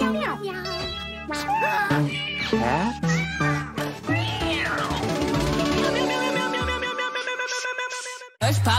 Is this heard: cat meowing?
yes